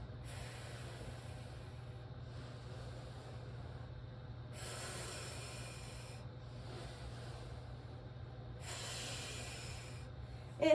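Deep, slow breaths during a strength exercise with heel slides, heard as three long airy inhale-exhale cycles close to the mic, with quiet pauses between them.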